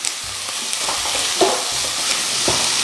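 Pork sautéing in a pan for igado, a steady loud sizzle of frying meat with scraping stir strokes and light clacks of the utensil against the pan, nobody talking.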